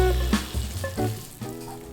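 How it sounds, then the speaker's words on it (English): Food poured into a hot pan of ghee sizzles loudly and steadily at close range, a continuous crackling hiss with small bursts of spatter and stirring. "So now we're going to pour it and just listen to the sizzle."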